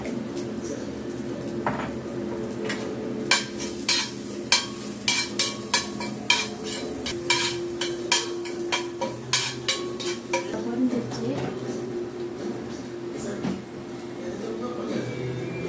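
Fenugreek seeds added to hot oil in a pan for a vendakkaai puli kulambu, giving a steady sizzle with a run of crisp popping and crackling ticks, close up.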